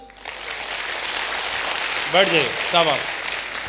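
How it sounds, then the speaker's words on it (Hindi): Audience applause at a Safe Shop motivational speech event, a steady wash of clapping that runs throughout while a voice speaks briefly over it near the end. "तो दोनों के लिए ताली हो जाए"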